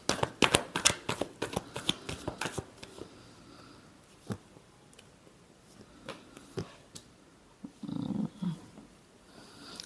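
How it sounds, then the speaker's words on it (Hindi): Tarot cards being shuffled close by, a rapid burst of crisp riffling flicks at first, then scattered single card slaps and a soft rustle, with no one talking. "Last shuffle."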